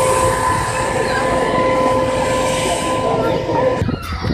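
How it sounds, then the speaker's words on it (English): A passenger train runs steadily with a continuous loud rumble and rolling hum, heard from inside the carriage, with a brief clatter near the end. "We're on the train."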